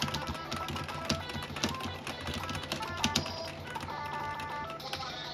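Rapid clicking of a computer keyboard, close and fairly loud, with bursts of keystrokes running steadily throughout and no talking.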